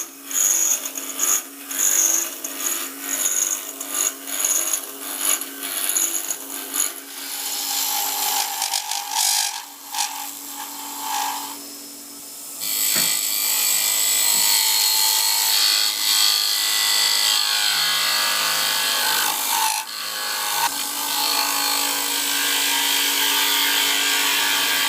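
Wooden disc spinning on a wood lathe while a tool cuts it, harsh scraping and shaving bursts in an uneven rhythm, close and loud, settling into a steadier continuous cut after a short pause.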